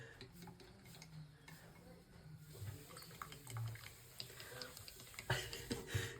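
A spoon stirs Bru instant coffee in a cup, with soft scraping and light clinks that rise and fall irregularly, close by, along with faint background noise and a few sharper taps near the end.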